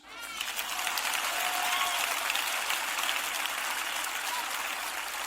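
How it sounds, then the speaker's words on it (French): A church congregation at First Love Centre in Ghana applauds for Jesus, dense sustained clapping from a large crowd that swells quickly and holds steady, with a few faint voices mixed in. "Applaudissez pour Jésus."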